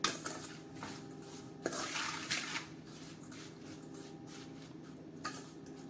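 A spoon scrapes and clinks against a bowl while amla and green chili pickle is stirred with masala, giving a few sharp knocks followed by softer, steady mixing sounds, with no talking.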